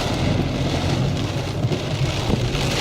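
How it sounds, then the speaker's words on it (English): Steady rain hisses continuously over Bray Lake, a dense broadband patter with a low rumble underneath, no voices. "Here's our rain."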